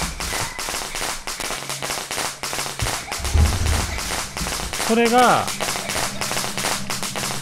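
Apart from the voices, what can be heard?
firecracker thrown in the video game Shadow Corridor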